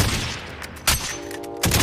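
Sniper gunfire in a video game: a couple of sharp, loud cracks stand apart against steady background noise, with a brief tonal sound between them.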